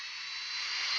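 Steady, roaring jet engine noise of an airliner taking off in a video game, with a broad hiss, holding constant and swelling slightly louder toward the end, no voices.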